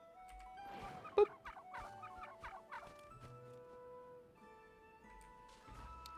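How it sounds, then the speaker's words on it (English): A small bird in the game Genshin Impact clucks and chirps in quick, bright bursts over a quiet game backdrop with soft musical tones, one louder peck-like click near the start. "Oh, look at the little bird. Hi,"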